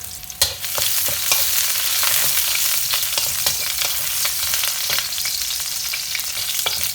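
Garlic hits hot oil for a stir-fry of pork stomach with celery, bursting into a loud, dense, continuous sizzle that holds steady throughout, dotted with light clicks from stirring.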